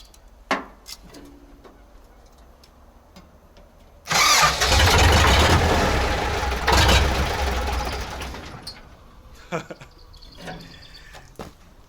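After a few clicks and brief talk, a D-240 diesel engine fitted in a ZIL crane truck cranks and catches with a sudden loud roar, runs rough for several seconds, then cuts back as voices resume.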